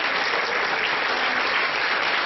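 Dense, loud audience applause fills the whole stretch at a welcome event in Nebraska, a continuous close wash of many hands clapping with no talk over it.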